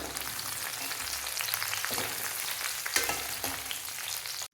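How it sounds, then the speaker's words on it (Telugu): Onions, dried red chillies and curry leaves frying in hot oil as a curry tempering, a continuous loud sizzle with crackles and a couple of sharper pops, stopping abruptly at the end. "దీంతో పాటు కరివేపాకు కూడా వేసుకొని బాగా వేయించుకోవాలి."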